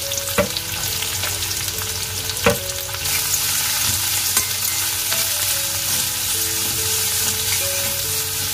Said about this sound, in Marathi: आणि ह्या इकडे एक कांदा घातलेला आहे.